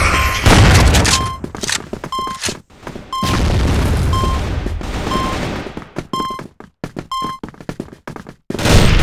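A grenade blast and gunfire in the video game CrossFire arrive as heavy booms and rapid shot bursts, loud and close, broken by short silences, with repeated electronic beeps sounding between them.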